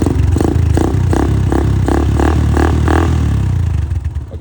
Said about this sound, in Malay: Boleh dengar bunyi enjin.